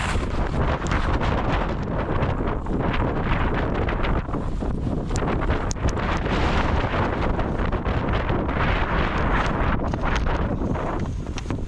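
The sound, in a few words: storm wind blowing on a GoPro on a pole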